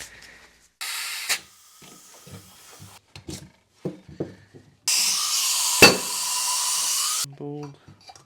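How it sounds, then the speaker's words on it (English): Compressed air blasts into a Subaru Justy brake caliper to force the piston out, a loud steady hiss lasting about two seconds with a sharp pop partway through, following shorter bursts of air and clanking tool handling. "Let's try some compressed air and see if we can get out this piston."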